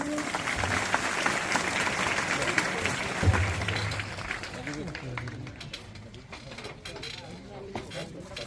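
An audience claps at an honouring ceremony where an official receives a bouquet and shawl on stage; the steady applause fades after a few seconds while voices carry on.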